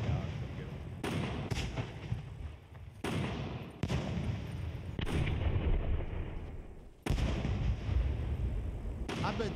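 Booming fireworks bursts in the video game SCUM, five or six loud sharp blasts spaced a second or two apart, each trailing a rumbling decay, with a voice talking over them.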